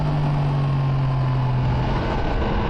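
A remapped 2023 Yamaha MT10 motorcycle with a Junction 33 Woolich tune burbles at low revs, a steady deep rumbling exhaust under constant wind noise.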